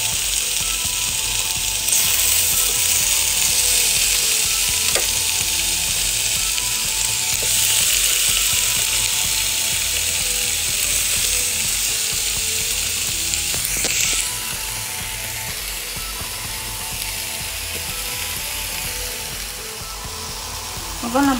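Chinchinga kebabs dusted with kebab powder sizzle steadily on the heat, a constant bright frying hiss with faint clinks and occasional scraping, no talk over it.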